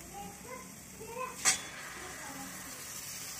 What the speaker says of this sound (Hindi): अभी इसमें हम पालक की पेस्ट डाल देंगे।